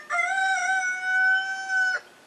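A rooster crows once at sunrise, a long sustained tonal call of nearly two seconds, loud and close, with no other sounds around it.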